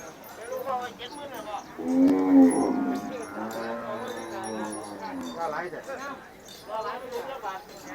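Cattle low at a rural cattle market in Mahasarakham province, Thailand, with a long, loud, drawn-out moo in the middle and fainter moos around it, mixed with nearby talking.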